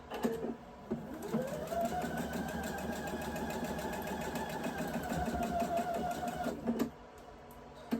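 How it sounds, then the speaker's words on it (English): A sewing machine stitches quilt fabric in one steady run of about six seconds, a close, even mechanical whir with a rising start and a clean stop, and nobody speaks. "I'm going to take this over to the machine. We're going to stitch this."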